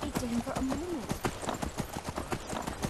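Horse hooves clip-clop steadily on the ground in Skyrim, a regular rhythmic beat of moderate loudness heard under someone talking.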